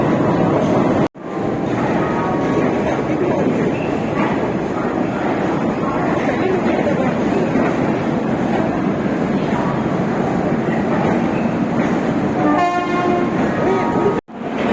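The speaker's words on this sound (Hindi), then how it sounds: "हमारी 12301 हावड़ा न्यू दिल्ली राजधानी एक्सप्रेस" The 12301 Howrah–New Delhi Rajdhani Express rolls along with steady loud rumble and wheel clatter, a brief horn note sounding near the end, continuous and close with two abrupt cuts.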